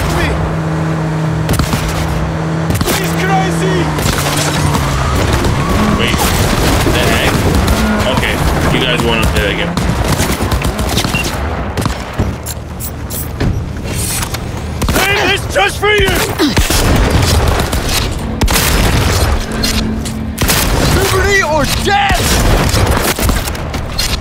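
Gunfire and explosions in the video game Cyberpunk 2077: Phantom Liberty, loud and continuous, with booming impacts and bursts of shots layered over a dense game soundtrack, with voices mixed in.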